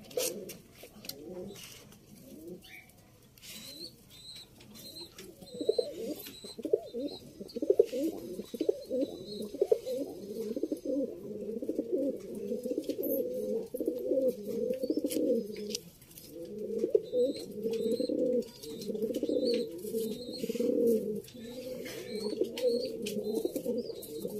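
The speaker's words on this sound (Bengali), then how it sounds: "দেখুন দুটো পায়রাকে ছাড়লাম, সব পুরোনো পায়রা।" Several pigeons in a loft keep up a dense, overlapping chorus of low rolling coos close by, steady throughout and swelling in the second half, with faint chirps above and no voices.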